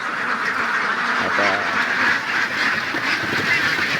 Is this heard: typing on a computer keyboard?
no